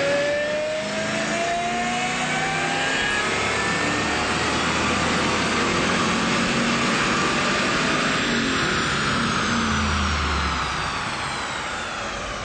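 A stock 2003 Ford Mustang Cobra roars through a baseline pull on a chassis dyno, its loud engine revving steadily upward with rising harmonic tones across the whole run, no voices over it.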